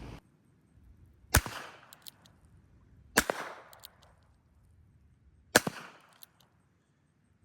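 Three sharp rifle shots fired at a coyote ring out at even intervals, each a loud crack with a brief echoing tail, separated by quiet outdoor stretches.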